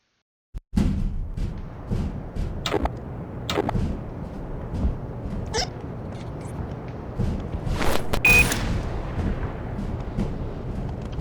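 A heavy explosion from a bomb in the video game Black Mesa booms after a brief silence, followed by a long rumbling roar with several sharp bursts and crackles mixed in.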